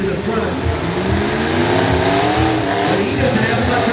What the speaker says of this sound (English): they like to use the rear end of those vehicles as a battering ram and protect the engine in the front